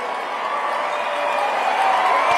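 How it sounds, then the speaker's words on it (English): A large crowd at America Fest, a political conference event, cheers in a sustained, roaring wash of voices, swelling slightly louder toward the end. "Oh my, they're cheering for"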